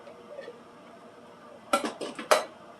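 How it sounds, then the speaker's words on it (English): Tomatoes are dumped into a cooking pot with a short clattering slosh of a few quick bursts, loud against an otherwise quiet kitchen. "Dump the tomatoes right in like that."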